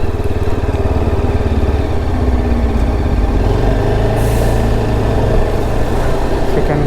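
Road traffic with trucks on a North Karnataka highway between Gokarna and Hubli, heavy diesel engines droning and idling close by, loud and continuous with passing vehicle noise.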